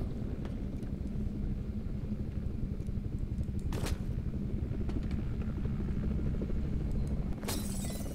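A helicopter in the video game F.E.A.R. 2 drones continuously with a dense, throbbing rotor chop and engine roar, loud and steady, punctuated by a couple of sharp bursts.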